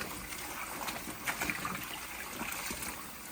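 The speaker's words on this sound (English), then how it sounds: "Just squeezing it, not wringing it. Get this one rinsed off as well." Water trickles and splashes softly as a silk Hermès scarf is rinsed and squeezed by hand, faint and close, with small irregular drips and sloshes.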